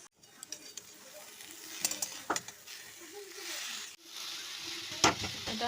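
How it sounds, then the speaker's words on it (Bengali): Grated coconut and jaggery are stirred in a kadai, close scraping and soft sizzling strokes coming in irregular bursts against a fairly quiet background. "এইদিকে আমি একটা কড়াইয়ের মধ্যে নারকেল নিয়েছি, নারকেল কোড়ানো, এর মধ্যে আমি গুড় দিয়ে দেব।"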